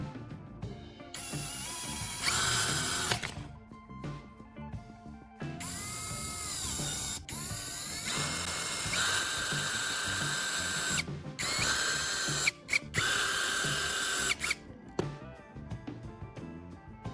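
A power drill drives screws into a square wooden block to secure a caster wheel, with repeated loud whirring bursts, brief pauses between screws and a ratcheting grind as each one seats.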